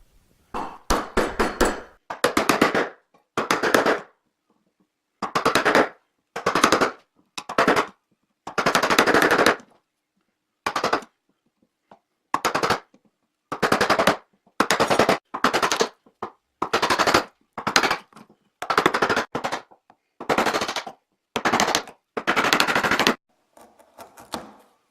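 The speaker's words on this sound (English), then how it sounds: "using my freshly sharpened chisel, try to remove as much as I can with the chisel angled backwards like this" A freshly sharpened chisel cuts wood while a wooden mallet is being made, giving about twenty sharp, loud chopping bursts in an uneven rhythm with short silent gaps between them.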